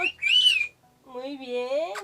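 A talking parrot gives two shrill whistles close by, the first a short rising-and-falling tone and the second a longer sliding whistle that rises and ends in a sharp squeak.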